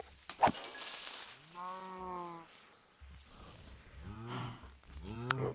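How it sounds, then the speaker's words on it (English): Several cows in the video game Minecraft moo, with two long drawn-out lowing calls separated by a pause, fairly close and clear over faint game ambience. "Just trying to make sure it's nice and safe around our cows before we start into the feeding."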